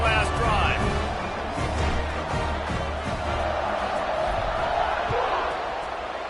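A stadium crowd roars steadily in a football video game during a kickoff, a continuous broad wash of cheering and noise throughout while an announcer's commentary runs over it.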